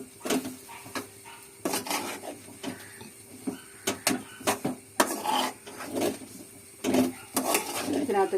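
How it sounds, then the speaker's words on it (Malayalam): Vegetables and grated coconut stirred in a cooking pot, a run of irregular metallic clinks and scrapes of a spoon against the pot, close and fairly loud with short pauses between strokes. "ഇനി നമുക്ക് മൂടി തുറന്നു ആവി എല്ലാം വന്ന് ഇനി നമുക്ക് ഇളക്കാം"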